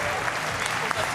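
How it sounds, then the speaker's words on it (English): Audience applause fills the hall at the DreamHack Winter 2014 CS:GO major final, a steady patter of many hands clapping at moderate distance, with a voice talking over it. "Round of applause to these guys"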